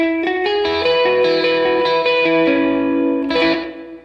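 Electric guitar run through a Strymon Deco pedal on its chorus setting, playing a loud, sustained sequence of picked notes with a gently shimmering, doubled tone and a trailing reverb-like tail, no talking.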